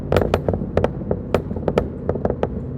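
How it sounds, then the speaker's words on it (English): A rapid series of sharp exhaust pops and crackles fires irregularly over a low idling V8 rumble from a Volvo S80 with a custom exhaust, loud and close. "With the pops and bangs, of course."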